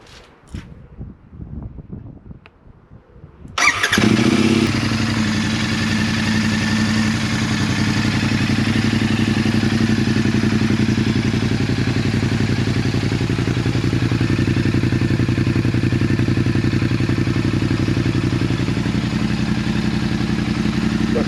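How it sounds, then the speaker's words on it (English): A Royal Enfield Continental GT motorcycle engine cranks after a few clicks and fumbles, catches and settles into a steady, loud, close idle that runs on evenly. "let's go and fire this Enfield up and see what we got"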